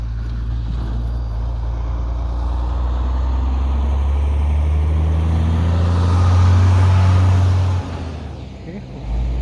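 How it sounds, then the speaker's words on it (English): A Unimog truck drives past with a loud, steady low engine drone that swells to a peak, then drops off abruptly as it moves away. "Look, a Unimog."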